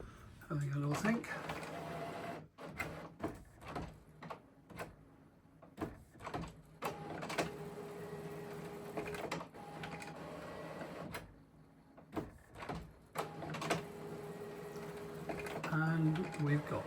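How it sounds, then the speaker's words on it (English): An HP 9730e printer hesitating before a print job gives off a run of uneven mechanical whirs, clicks and roller movements that start and stop, heard up close in a quiet room. "here's the printer having a little think"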